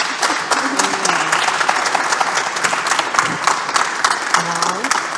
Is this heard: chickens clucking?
no